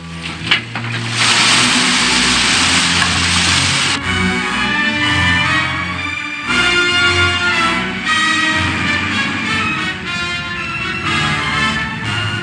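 Destroyer engines run at full throttle in a war film, a loud sustained broadband roar and rumble that surges after a brief start and holds steady with shifting tones throughout.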